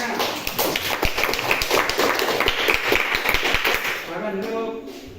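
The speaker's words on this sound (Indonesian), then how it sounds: "Tepuk tangan semuanya." Group applause from an audience in a classroom setting, dense close clapping that fades out after a few seconds, with voices mixed in underneath.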